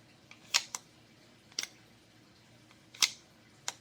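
A Gerber StrongArm knife clicks into its sheath, with four sharp, distinct snaps spread unevenly over a few seconds against quiet background, close and clear.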